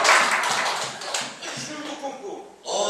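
A church congregation claps in a burst of applause that fades and picks up again at the end. Voices talk over it.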